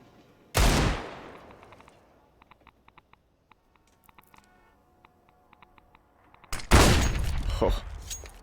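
Automatic AK rifle fire in a Counter-Strike match, two loud dense bursts, one at the start and a longer one near the end, with faint clicks and quiet game noise between them.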